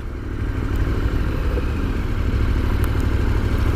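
A 2017 KTM 1290 Super Adventure T motorcycle being ridden at low speed around town, its engine giving a steady, loud rumbling drone with slight mechanical clatter and no talk.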